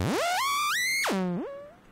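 Modular synth square wave from an oscillator, its pitch swept around by a Wogglebug random source: a bright buzzy tone glides and steps upward, drops sharply low, then climbs and fades, alone and fairly loud.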